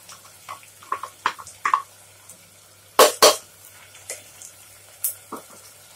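Chopped onions going into a pan of oil for a beef and potato curry, heard as several clattering knocks with a louder double clatter in the middle, over a faint sizzle.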